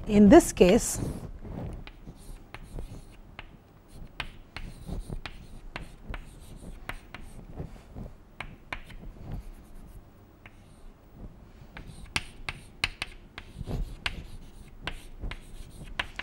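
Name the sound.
writing equations on a board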